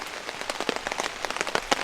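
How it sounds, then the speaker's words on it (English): Heavy rain during a multi-day camping trip, a dense, close patter of drops striking surfaces that holds steady and continuous throughout. "This is definitely a rainy one."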